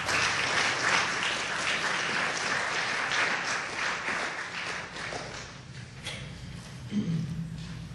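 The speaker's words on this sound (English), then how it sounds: "They all deserve a big round of applause" An audience at a law school moot court competition final gives sustained applause, loud at first and gradually thinning, with faint voices near the end.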